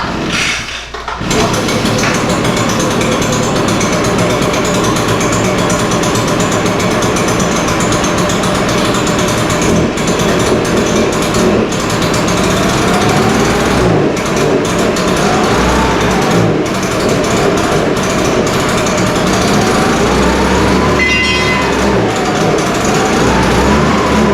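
An Echo PB-580T backpack leaf blower, brought back from retirement, started on full choke after priming; the two-stroke engine catches within a second and then runs loud and steady at a high, buzzing drone, with slight wavers in speed.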